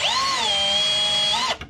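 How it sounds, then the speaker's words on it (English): A power drill spins steadily for about a second and a half, its whine wavering slightly in speed, then cuts off abruptly. It is close and loud, with no talking. "I'm gonna hear number 1 on this drill"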